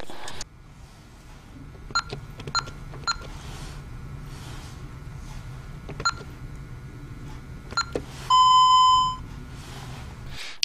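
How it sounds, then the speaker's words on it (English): Alarm panel keypad sounding its exit warning: scattered short beeps across the first eight seconds, then a sustained louder tone lasting about a second, all over a low steady hum. "By default, exit beeping is set to on."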